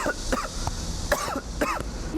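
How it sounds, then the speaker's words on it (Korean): Several harsh coughs in quick succession, close and loud, with short pauses and a bit of throat clearing between them, as a person coughs to clear a partly blocked airway. "기침할 수 있어요? 그럼 기침 좀 해보세요."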